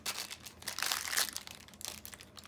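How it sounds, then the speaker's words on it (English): Wet, slippery plastic packaging of a LOL Surprise fizz ball being ripped open by hand: a brief run of close crinkling and tearing that swells to a louder crunch midway, then settles into scattered rustles. "All right, let's rip it open."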